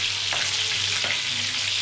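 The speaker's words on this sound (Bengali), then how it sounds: "আমি এবার জিনিসটা টস করব।" Chicken 65 sizzles and fries in a little oil in a pan while being tossed, a steady, loud hiss with a couple of soft stirring scrapes and no talking.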